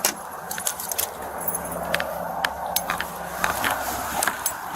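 Car keys jangle as they are handed over, giving repeated bright metallic clinks and rattles in irregular bursts over a low, steady background hum.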